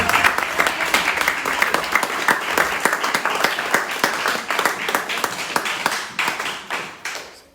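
A church congregation applauds loudly and steadily at a French-language worship service, dense clapping sustained throughout before thinning out near the end.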